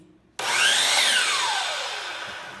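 A belt-driven miter saw blade starts up in a community woodworking shop, with a sudden onset, a rising whine as the blade gets up to speed, then a steady, loud spin that slowly fades.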